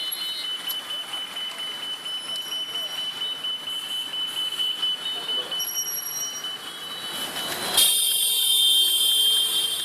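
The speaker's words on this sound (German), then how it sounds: "senden hier die Ampeln schrille Pieptöne aus" Shrill steady beeping from Indian traffic lights rings over noisy street traffic, continuous and high-pitched, with a louder burst of street noise near the end and someone talking faintly underneath.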